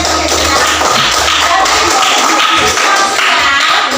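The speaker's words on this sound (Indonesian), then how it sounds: "Ya, tepuk tangan buat" An audience at a teacher training session claps in a brisk, rhythmic pattern, with steady sharp hand claps and taps filling the room for about four seconds and no voice over them.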